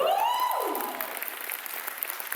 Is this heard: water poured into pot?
no